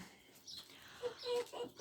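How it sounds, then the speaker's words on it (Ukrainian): Faint, soft clucks and thin peeps from young chickens come in short bursts, quiet and somewhat distant. "От мої курчатка які."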